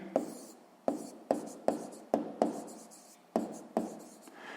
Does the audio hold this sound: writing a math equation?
yes